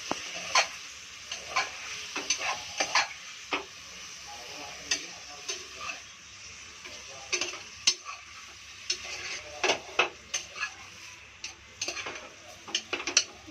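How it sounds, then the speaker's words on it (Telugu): A spoon scrapes and clinks against a pan in irregular strokes over a faint sizzle, the sharp metallic taps close and scattered throughout. "పోపులో వేసుకొని బాగా కలుపుకోవాలి."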